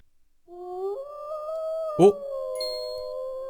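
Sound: seal howling in Roblox video game

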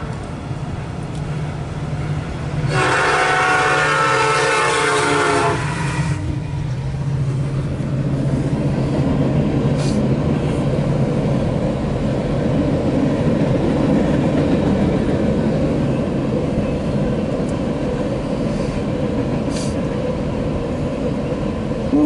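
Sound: freight train horn and passing train

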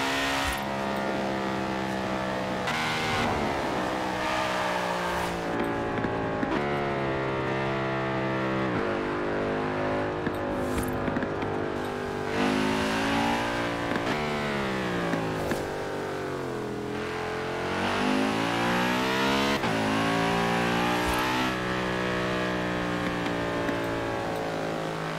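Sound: race car engine revving in video game

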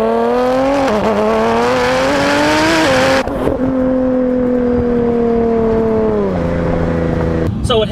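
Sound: 1600 hp Nissan GT-R with turbo kit accelerating

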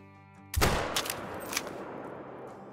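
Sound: 22-250 rifle shot at a feral goat in the video game Call of the Wild

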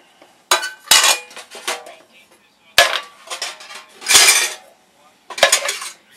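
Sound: paint cans and lids being handled

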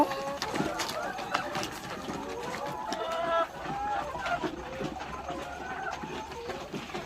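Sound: chickens in a coop in winter

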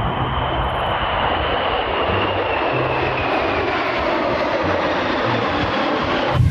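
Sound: SU-35 fighter jet flying

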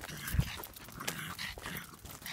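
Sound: dog panting

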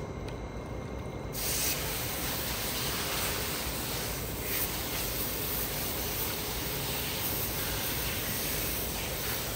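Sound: garden hose spraying an air filter

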